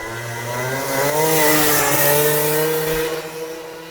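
A race car's engine nears a chicane on a rough course in Montenegro, its loud buzzing tone climbing and wavering as it closes in, heard alone without talk.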